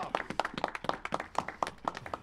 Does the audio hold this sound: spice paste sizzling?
no